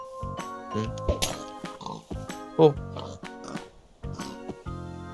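Pigs oinking in Minecraft, several short grunting oinks in quick succession, close and clear, with a brief voice interjection.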